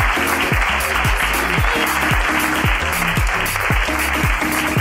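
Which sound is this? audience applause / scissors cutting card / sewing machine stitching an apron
audience applause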